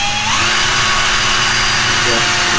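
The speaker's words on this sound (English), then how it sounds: "I've got my drill with this on it, so we're going to just kind of set it here" Electric drill fitted with a polishing attachment runs continuously against a Steyr M95 Mannlicher carbine part during restoration, a loud steady whine with rubbing grind throughout.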